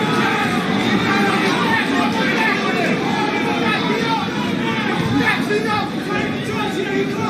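A boxing arena crowd murmurs steadily after a knockdown, a dense, continuous babble of many voices that holds at a constant level throughout without distinct cheers.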